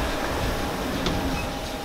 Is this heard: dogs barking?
no